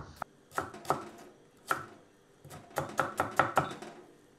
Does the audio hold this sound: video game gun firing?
no